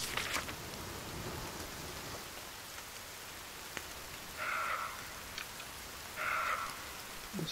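Rain falls steadily in the survival game The Forest at sunset, a soft constant hiss with a couple of brief louder tonal swells partway through and no voices.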